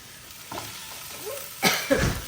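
Potatoes and onions fry in a pan with soft sizzling and a few louder bursts from stirring, close and without speech.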